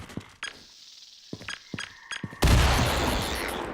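Grenade explosion in the Raising the Bar: Redux video game: a sudden loud broadband blast near the end, preceded by several short sharp clinks and thuds, then a sustained rumbling roar with debris-like crackle.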